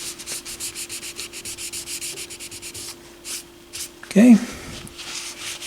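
A cloth rubs quickly back and forth across the dial glass of a McIntosh MAC1900 stereo receiver to clear off gunk, making brisk scratchy strokes close up. A short spoken word and a louder knock come near the end.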